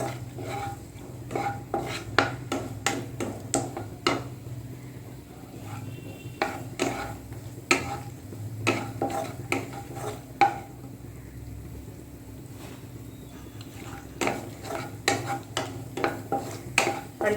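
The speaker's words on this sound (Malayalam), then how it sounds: "അണ്ടിപ്പരിപ്പ് ഒന്ന് ഫ്രൈ ആവട്ടെ." Cashews frying in ghee for aval payasam, stirred in a pan: a steady run of spoon clinks and scrapes against the metal over a faint sizzle, close and fairly quiet, with no talking.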